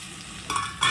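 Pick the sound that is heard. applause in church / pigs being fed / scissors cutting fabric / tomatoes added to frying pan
tomatoes added to frying pan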